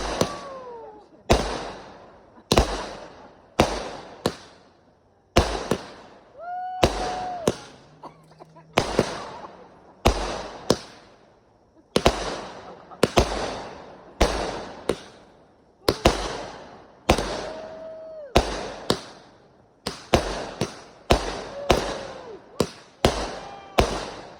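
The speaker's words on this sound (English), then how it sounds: "Pretty good firework." Repeated sharp firework bangs, loud and near, bursting in irregular clusters with brief gaps and a few whistling shells rising between them, from a consumer firework called the Wicked Pissa at a Fourth of July display.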